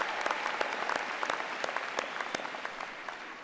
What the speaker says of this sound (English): Please give another round of applause to your leader, Chancellor Hyman